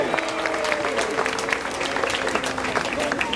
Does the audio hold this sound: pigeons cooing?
no